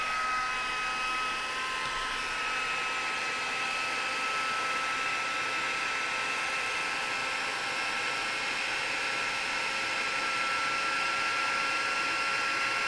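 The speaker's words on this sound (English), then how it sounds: "now I'm going to bring my heat gun over here" Heat gun blowing a continuous, even whoosh with a faint high whine, close and steady for the full stretch while working on template cards, with no talk.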